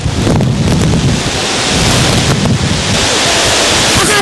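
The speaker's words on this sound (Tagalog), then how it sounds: "Hindi rin biro ang bugso ng hangin." Typhoon Pedring lashing Manila Bay: roaring waves and strong gusting wind batter the microphone in a loud, continuous rumble with surging bursts of surf.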